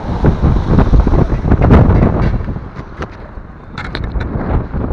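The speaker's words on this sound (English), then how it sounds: "Extremely windy day. My hat just flew off." Loud, rough wind buffets the microphone in gusts on an extremely windy day by the Lachine Canal in Montreal, roaring and crackling continuously with no voices.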